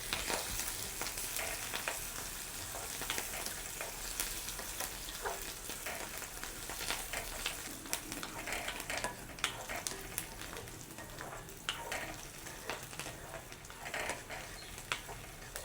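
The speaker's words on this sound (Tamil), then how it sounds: "வெங்காயத்தை போட்டுக்கொள்ளுவோம். அதோடு வந்து பொட்டுக்கடலை, கடுகு, பெருஞ்சீரகம், ஒரு செத்தல் மிளகாய், அதோட கருவேப்பிலை இவ்வளோத்தையும் போட்டு நல்லபடியாக வதக்குவோம்" Onions, mustard seeds, fennel, roasted gram, a dried red chilli and curry leaves sauté in hot oil for a pasibayaru idli dish, giving a steady close sizzle with light scraping and stirring throughout.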